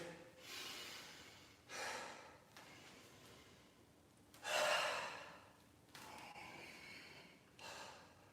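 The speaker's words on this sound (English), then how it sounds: "So this is an iron body breathing method now." Forceful qi gong breathing for iron body training: a series of loud, breathy inhales and exhales in uneven bursts, close and clear, with one sharper, stronger exhale in the middle.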